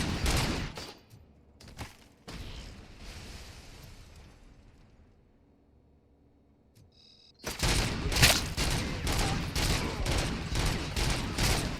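Heavy gunfire from the Robocop: Rogue City shooter, with early bursts fading into a quiet lull before a loud, continuous barrage of rapid shots and blasts.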